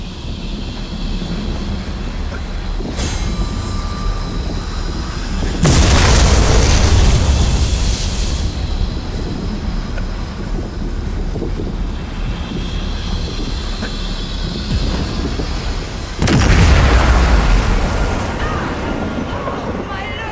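A loom is smashed apart with the Abolisher in the Elder Scrolls Online Gold Road, heard as two loud, booming crashes about ten seconds apart over a steady rumbling game ambience.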